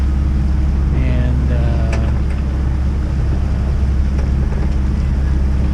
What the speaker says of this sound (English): if you hear a rumbling in the background, it's because the engine is running.